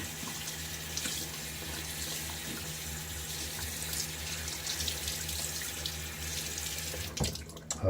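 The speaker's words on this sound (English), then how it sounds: "So let's just wash off this tub." Water runs steadily from a bathroom tap while a tub of shaving soap is rinsed under it, a close, continuous splashing rush that ends with a brief clatter near the finish.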